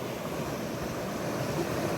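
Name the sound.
flowing water of a mountain stream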